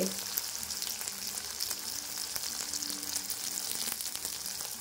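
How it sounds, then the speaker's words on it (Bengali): Chopped onions crackling and sizzling as they fry in hot oil for a soybean and potato curry, a continuous close, bright hiss dotted with small pops, with no talking. "এবারে দেবো কুচিয়ে রাখা পেঁয়াজ দিয়ে দিলাম। বাবা রে বাবা, কি পটপাট করে ফাটছে।"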